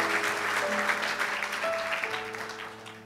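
A church congregation claps together during a bilingual sermon, steady broadband applause with sustained organ or keyboard tones held underneath, continuous and moderately loud for the whole stretch.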